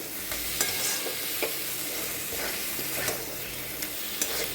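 Prawns stir-fried with spices in a pan, an even crackling sizzle broken by soft periodic stirring scrapes and taps, close and alone without talk.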